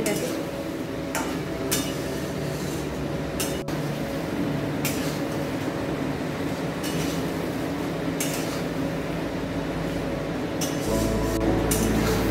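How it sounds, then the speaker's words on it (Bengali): Chicken is stirred and fried in a pot, with a steady sizzle underneath and repeated clinks and scrapes of a utensil against the metal, close and fairly loud throughout. "দেখি ভালো করে নেড়ে চেড়ে কষিয়ে নেবো এটাকে।"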